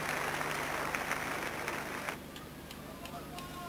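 Dance sport audience in the Kölner Sporthalle at a 1990 ten-dance championship applauding, a broad wash of clapping that fades down midway into quieter crowd murmur.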